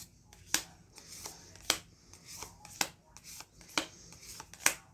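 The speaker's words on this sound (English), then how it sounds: "This one is hard to shuffle." A small, wide Marseilles-style tarot deck with stiff cardstock is shuffled in quiet, repeated bursts of riffling and snapping cards, about one burst per second, with no voices.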